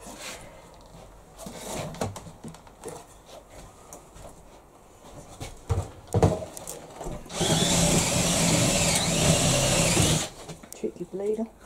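Holes are drilled and riveted by hand, with scattered clicks, knocks and short tool bursts, then a steady loud drill whine for about three seconds. A person talks intermittently between the bursts.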